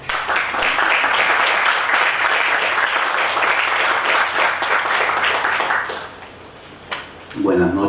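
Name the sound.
applause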